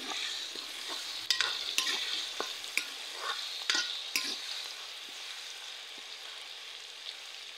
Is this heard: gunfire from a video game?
no